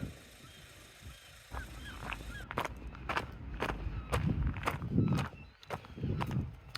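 Birds honk in a scattered series of calls at a river beach in Teignmouth, with close footsteps crunching underneath and a low outdoor background.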